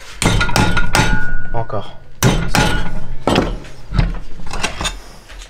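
A hammer strikes counterfeit replacement parts on an Audi car in several loud, hard blows with ringing metallic knocks and pauses between them, as a voice speaks briefly.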